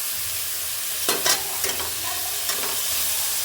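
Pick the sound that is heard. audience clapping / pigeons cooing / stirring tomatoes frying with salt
stirring tomatoes frying with salt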